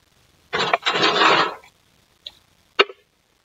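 Close rasping and scraping of metal against old 1890s hardwood flooring boards while nails are worked out, a long gritty scrape followed by two short sharp scratches, then quiet.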